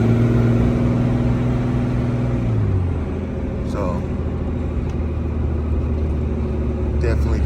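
A truck engine towing a 24,000 lb GVWR hooklift trailer holds a steady drone, then drops in pitch as it shifts gear and keeps pulling. The engine stays loud and close throughout, with a few clicks and knocks along the way.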